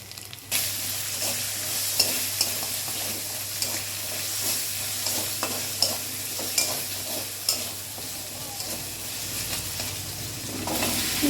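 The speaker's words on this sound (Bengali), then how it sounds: "এখন পেঁপেটা ভালোভাবে কষিয়ে নিবে" Papaya with ground spices is stir-fried in a pan, giving a steady, close sizzle broken by repeated scraping strokes of a spatula against the metal, with no talking.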